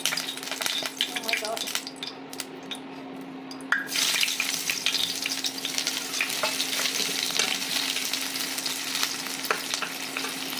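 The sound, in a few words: chopped onions frying in hot oil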